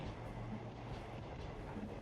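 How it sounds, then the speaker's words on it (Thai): Steady low rumble of a train in the video game What Comes After, a continuous rolling drone with faint rail clatter, quiet and unbroken. "รถไฟขบวนสุดท้ายเนี่ยเหรอ"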